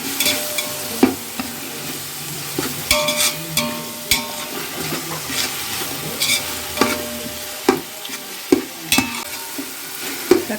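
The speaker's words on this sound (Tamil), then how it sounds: "தக்காளி நல்லா வதங்கிடுச்சு." Chopped tomatoes sauté in a pan for chicken biryani, a steady sizzle and frying hiss broken by repeated clacks and scrapes of a spoon stirring, close and without talk.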